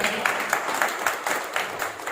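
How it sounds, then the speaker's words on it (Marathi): An audience at a Marathi poetry recital claps loudly and steadily, a dense wash of applause with regular peaks, continuing throughout with no one speaking. "एकदा जोरदार टाळ्या"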